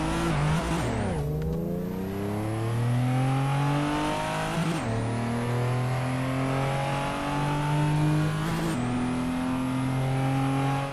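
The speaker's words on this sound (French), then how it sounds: "La Toyota Supra Mark 4." A Toyota Supra Mk4 in the Assetto Corsa racing game howls up through the revs, with sharp gear changes cutting the engine note twice before it climbs again. The sound is loud and continuous.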